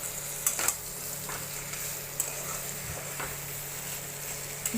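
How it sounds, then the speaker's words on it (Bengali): Crab being dry-sautéed in spices without water in a pan gives a steady, close sizzle and frying hiss, broken by a few sharp scrapes of stirring, with no voices. "ভালো করে এবার কাঁকড়াটাকে কষিয়ে নেব।"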